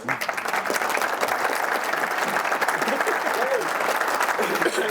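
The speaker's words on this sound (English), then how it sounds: "Give them a round of applause." An audience claps in sustained, dense applause at a live comedic panel show, steady and loud across the whole stretch with no pauses.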